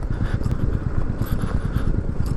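A motorcycle rides along a rough mountain road, its engine thrumming in quick, uneven pulses with rattling bumps, close and continuous.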